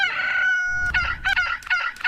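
A rooster crows one long, loud, sustained call up close, followed by several shorter choppy clucking bursts with a low rumble underneath.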